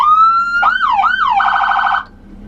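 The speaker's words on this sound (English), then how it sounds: "That's my on-off of the siren" A boat's loud electronic siren switches on, sweeps up and down twice, shifts into a rapid warbling yelp, then cuts off abruptly, leaving a low hum.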